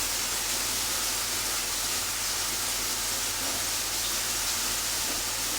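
Bacon frying in a pan for a full English breakfast, heard as a constant broad hiss with an even, unbroken crackling texture that stays loud and steady throughout, with no voices.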